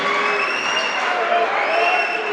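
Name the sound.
volleyball crowd noise during a spin serve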